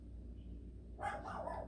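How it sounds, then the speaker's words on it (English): Faint and distant, a pet dog barks once or twice from somewhere away from a quiet indoor room, after a second of near silence. "you may hear my dog barking too"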